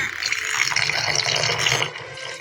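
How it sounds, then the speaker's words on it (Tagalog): Water poured from a tap over boiled cassava leaves to cool them in a kitchen, a steady, close splashing stream that runs continuously and eases off near the end. "So lagyan ko siya ng tubig para mabilis siyang lumamig."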